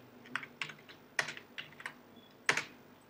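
Code being typed on a computer keyboard during a C++ programming lesson: a handful of sharp, close key clicks in an uneven rhythm, with brief pauses between short bursts in an otherwise quiet room.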